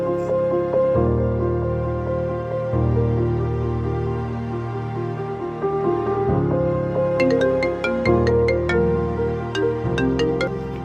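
An electronic phone ringtone plays a repeating melodic tune, loud and clear with bright chiming notes joining in partway through, no talking.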